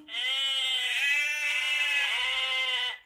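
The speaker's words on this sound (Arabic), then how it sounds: "وصوت الخروف" A sheep bleats in one long, loud, wavering cry lasting about three seconds, close and clear with nothing else heard.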